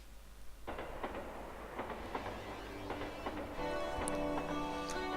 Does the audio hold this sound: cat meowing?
no